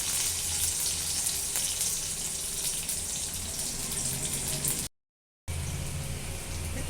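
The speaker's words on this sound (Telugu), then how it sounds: "ఒక స్పూన్ ఆయిల్ పెట్టుకున్నాను కదా, అదే బాండీలో ఇప్పుడు వెల్లుల్లి వేసుకుందామండి" Garlic frying in a spoonful of oil in a kadai, a steady loud broadband sizzle that runs unbroken apart from one short silent gap.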